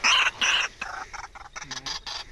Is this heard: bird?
yes